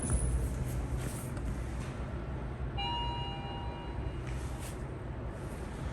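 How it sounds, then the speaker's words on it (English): Mitsubishi elevator chime at a Texas shopping venue, a single bright bell tone ringing out mid-way over a steady background hum and fading over a couple of seconds. "I'm gonna go out and ring the bell."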